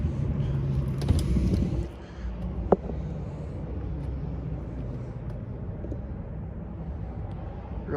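Air-cooled 1600cc single-port engine of a 1970 Volkswagen Beetle, with cabin noise and a click before the motor settles into a steady, low idle rumble heard from close by.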